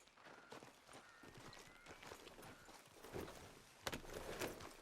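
Horse hooves clip-clopping in Red Dead Redemption 2, soft irregular hoofbeats at moderate distance mixed with light footsteps and outdoor ambience, with a sharper knock near the end.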